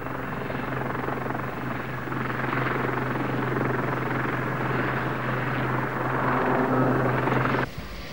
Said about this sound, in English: the giant helicopter is working with a Mark 166 magnetic influence sledge